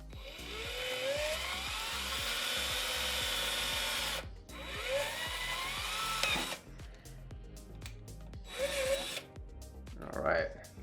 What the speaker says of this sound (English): I'm going to drill a tiny little hole inside